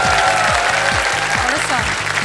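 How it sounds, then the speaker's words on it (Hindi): A studio audience on a televised quiz show gives steady, dense applause, with rhythmic group clapping filling the short moment loudly from start to end. "ताली बजाएं इनके लिए।"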